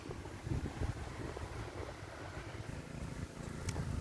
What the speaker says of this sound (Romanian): Problema e că bate și vântul cam tare din față